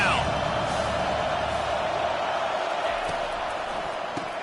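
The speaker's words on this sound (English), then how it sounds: "Decibels rising as the crowd gets behind this defense on 3rd down." Football stadium crowd roaring on a third down, a dense sustained wall of noise that stays loud throughout and eases slightly toward the end.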